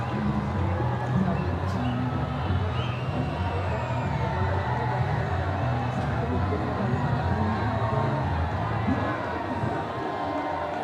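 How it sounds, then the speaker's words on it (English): Large crowd at a live cricket final between SLC Blues and SLC Reds, a steady dense murmur of spectators and babble with faint distant calls throughout. "Very good crowd enjoying some good cricket."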